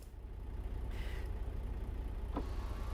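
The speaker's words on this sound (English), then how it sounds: "So if I put the window down," A truck's power window in American Truck Simulator whirs down in a short motorized whine, heard faintly over a steady low engine idle that rumbles throughout, with a brief click near the end.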